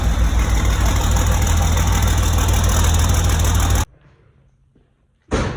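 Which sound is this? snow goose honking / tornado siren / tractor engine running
tractor engine running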